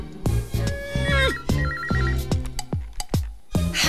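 A cell phone rings in a Telugu film scene: a bright electronic ringtone trills in repeating bursts over a punchy rhythmic beat, loud and close, with no one speaking.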